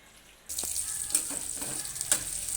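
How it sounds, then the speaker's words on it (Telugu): Vegetable pieces frying in a pan, a steady close hissing sizzle that starts abruptly and keeps going, with a couple of sharper crackles and faint stirring scrapes, no talking. "ముక్కలు అయితే బాగా వేగిపోయినాయి."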